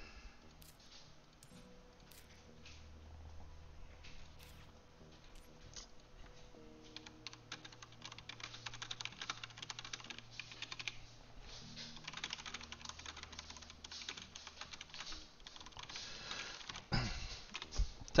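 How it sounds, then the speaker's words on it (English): Steady computer keyboard typing runs throughout, clattering keys in bursts with a low hum beneath, played during an online tournament finals game. "Typing it there for people who are watching in the Discord."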